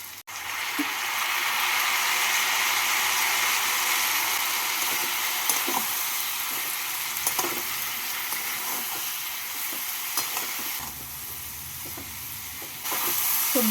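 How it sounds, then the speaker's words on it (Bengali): Spices frying with vegetables and green chillies in a pan, a continuous hissing sizzle with scattered small clicks and scrapes, dropping briefly quieter toward the end. "সবজির সাথে মশলাটাকে ভেজে নেব"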